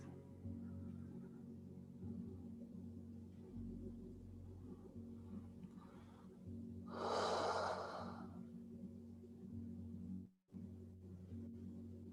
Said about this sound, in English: And you breathe.